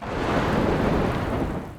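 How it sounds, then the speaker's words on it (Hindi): Heavy rain pours steadily with a deep rumble of thunder rolling underneath, a dense, even wash of noise with no voices. "हवाएं चल रही है, बारिश हो रही है।"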